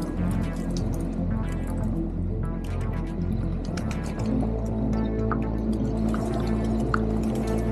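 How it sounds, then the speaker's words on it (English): Water drips and trickles off a Sherp amphibious vehicle as it climbs out of a pond, scattered splashes over a steady low engine rumble. "Absolutely love taking the old Sherp and coming out of the pond like that."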